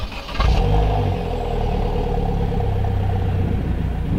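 A Vauxhall Corsa VXR's 1.6 litre turbocharged petrol engine rumbles steadily, loud and close after a brief start-up burst, holding an even idle throughout.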